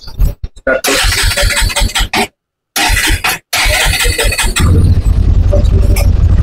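A Bajaj NS 125 motorcycle engine cranks and catches after a few stuttering attempts with brief gaps, then settles into a loud, steady, close-range idle.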